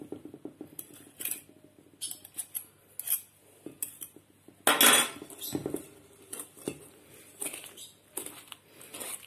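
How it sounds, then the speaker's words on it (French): Mascarpone whisked in a bowl for a speculoos tiramisu gives a series of close metallic clinks and scrapes against the bowl. The strokes come in short irregular bursts with small pauses, and one louder, harsher scrape falls midway. "Et là, on va mélanger avec le fouet."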